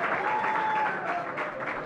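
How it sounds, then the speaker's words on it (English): Spectators at a rifle and pistol shooting World Cup final in Milan break into a short burst of clapping, moderately loud and steady, with no talking over it. "the crowd likes it"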